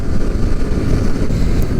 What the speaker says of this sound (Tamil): பில்டிங் எல்லாம் மொத்த காற்று இங்கே தான் அடிக்குது